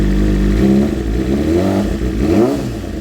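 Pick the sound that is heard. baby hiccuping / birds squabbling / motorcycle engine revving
motorcycle engine revving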